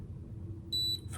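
A ketone breath reader gives a single short, high electronic beep near the end, clear over a faint low room hum with no talk.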